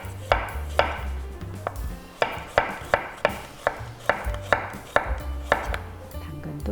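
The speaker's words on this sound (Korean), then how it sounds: "그 다음에 여기에 당근도 썰어주시면 됩니다." Knife chopping carrots into thin julienne strips on a cutting board, about a dozen crisp, evenly spaced board knocks, close and clear, with no talking.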